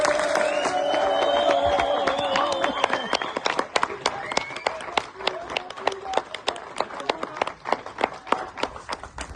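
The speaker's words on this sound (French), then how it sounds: "je veux vraiment un tonnerre d'applaudissements pour David" Audience applause for David at a film premiere, a dense crowd with cheering voices at first, then thinning into scattered individual claps that continue steadily to the end.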